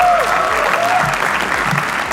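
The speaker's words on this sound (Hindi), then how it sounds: "चिराग पंजवानी के लिए तालियां।" Loud, dense applause from a stand-up comedy audience fills the whole stretch, steady clapping with a faint crowd murmur underneath.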